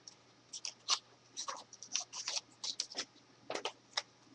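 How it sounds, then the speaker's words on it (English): Quiet crisp snips from small scissors and paper rustles come in short irregular bursts, close by, with no voices. "we're just going to cut this out like this"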